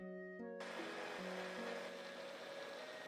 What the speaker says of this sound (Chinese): 挑掉的黄瓜皮不要丢掉，直接塞在破壁机中，倒入1大碗生水，打成黄瓜汁